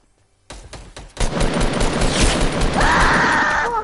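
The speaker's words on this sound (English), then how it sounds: "Oh, I got sniped." Gunfire in a Fortnite Battle Royale match: a sharp shot breaks the quiet, followed by a loud sustained burst of rapid shots with a tonal whine underneath, close and dominant.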